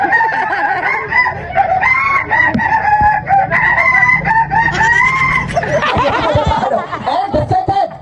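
A person mimics a rooster's crowing with drawn-out squawking calls, mixed with chuckling and clucking sounds, loud and close.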